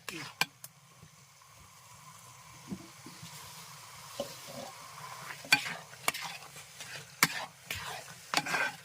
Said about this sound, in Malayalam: നമ്മൾ നന്നായിട്ട് എല്ലാ സൈഡൊക്കെ കൂട്ടി ഇളക്കി കൊടുക്കണേ നന്നായിട്ട്